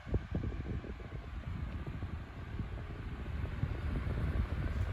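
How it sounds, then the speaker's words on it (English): A 1990s Super 8-inch oscillating fan runs at modest speed, giving a soft, steady whir with faint irregular fluttering throughout, no voices present. "That'll give you an idea of the blade pitch as the fan is running."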